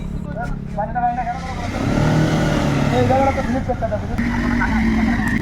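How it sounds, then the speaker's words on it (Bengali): Motorbikes struggle along a muddy forest road after rain, tires slipping as engines rev and whine up and down, loud and close, under continuous talking. "তাই আমাদের বাইকের টায়ারগুলো অনেকটা স্লিপ করছেন"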